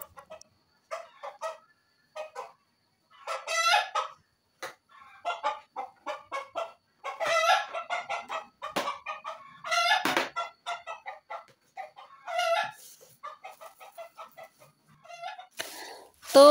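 Chickens clucking and a rooster crowing in a rural backdrop, a series of separate squawks and crows spread across the stretch, fairly close with quiet gaps between calls.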